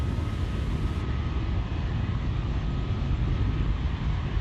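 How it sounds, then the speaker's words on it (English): A SpaceX Falcon 9 rocket, climbing from Space Launch Complex 4 East on the Transporter-12 mission, sends out a loud, continuous broadband roar that stays steady throughout. "Falcon 9 has cleared the tower at Space Launch Complex 4 East"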